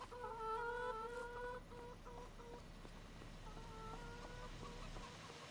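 Hens in a Farming Simulator 25 farm pen cluck in repeated short, drawn-out calls over a constant hissing background, moderately loud and with no voices.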